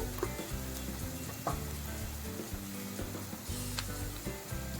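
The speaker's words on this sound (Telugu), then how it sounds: "ఒక స్పూను నూరుకున్న మసాలా గరం మసాలా మొత్తం ఇవి కూడా పచ్చివాసన పోయేదాకా వేయించుకోండి" Curry leaves, ginger garlic paste and garam masala sizzle steadily in hot oil for a small-fish curry, a dense continuous frying hiss with occasional light pops and stirring clinks.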